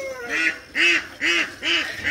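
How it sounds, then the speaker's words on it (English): Several ducks quack loudly close by in four strong, evenly spaced nasal calls with short gaps between them. "these ducks just like walk around being loud"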